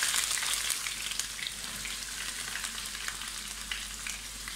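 Sliced onions fry in a pan for chicken dum biryani, giving a steady, close hiss of sizzling oil with faint crackles throughout and no voices.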